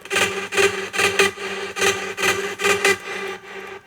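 A layered Hard NL synth patch for big-room EDM plays rhythmic, gritty, buzzy stabs in short repeated bursts with brief gaps between them, loud and dense with no voices.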